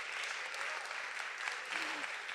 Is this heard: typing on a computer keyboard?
no